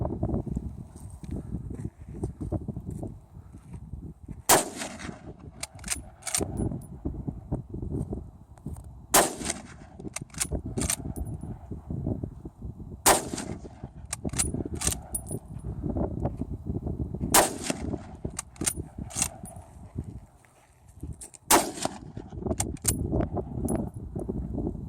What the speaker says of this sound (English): Then we'll use some magic here to show this rifle in action.